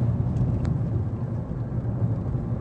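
A car engine revs up under added throttle during an emissions test, a close, loud, steady rumbling drone with no speech.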